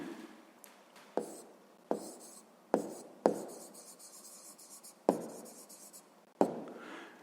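Pen or chalk writing strokes during a Ukrainian sixth-grade maths lesson, a series of sharp taps and scratchy strokes at an irregular pace, close and fairly quiet, with no speech.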